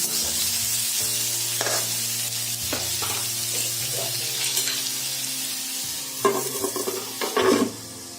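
Radish sabji fries in a pan with a steady, close sizzle while a spoon stirs and scrapes through it at intervals, the stirring louder and busier near the end.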